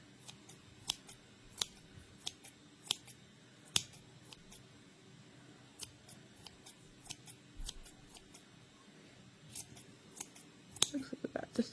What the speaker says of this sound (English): you just go back in and clip those down a little bit